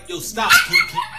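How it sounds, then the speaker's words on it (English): A pet dog barks and yips in short bursts close by, mixed in with a man's speech. "That's my dog"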